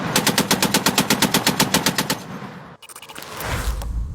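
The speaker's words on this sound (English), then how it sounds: "It's the primary heavy machine gun of NATO countries" NATO heavy machine gun firing a rapid, evenly spaced burst of loud shots for about two seconds, then a brief gap and a second short burst near the end.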